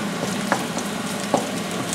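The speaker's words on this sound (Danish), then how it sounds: "Så nu har de ligget og fået lov til at simre lidt dernede i, eller simre i hvert fald stege." Garlic, ginger and chicken fry for yakisoba in a hot pan, giving a steady close sizzle with a couple of light stirring clinks.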